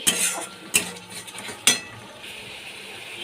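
A spoon stirs cauliflower curry spices and sugar in a hot pan, giving three sharp scraping strokes over a steady sizzle, loud and close.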